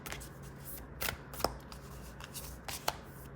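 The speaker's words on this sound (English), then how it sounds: "as I was shuffling this card" Tarot cards being shuffled by hand: soft riffling and sliding with several sharper snaps of cards striking together, fairly quiet and close, with no talk.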